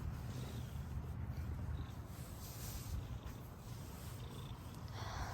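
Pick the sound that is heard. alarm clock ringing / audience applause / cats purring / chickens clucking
cats purring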